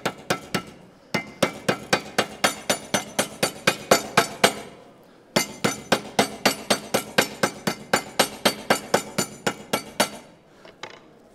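A kitchen hammer pounds pike-perch (sandre) fillets flat in rapid, evenly spaced strikes, two long runs of sharp metallic taps separated by a brief pause, close and loud with no talk.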